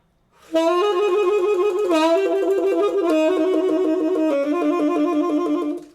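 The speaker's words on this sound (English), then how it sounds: "A cool way to practice this too is to descend in half steps." A bright, sustained trill that steps downward in small increments, holding each rapid two-note alternation for about a second before sliding lower.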